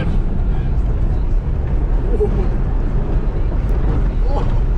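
Loud roaring rumble of a third-generation Toyota Tacoma truck speeding about 60 mph through vineyards, with heavy wind buffeting and road noise filling the whole stretch.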